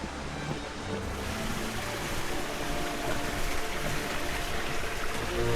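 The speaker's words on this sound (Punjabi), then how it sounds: "ਪਾਣੀ ਦਾ ਸਾਊਂਡ ਚੈੱਕ ਕਰੋ" Steady rushing water fills the scene, a continuous broadband roar like a flowing stream or river close by, on an eroded route to Tedhe Mandir, with no voices.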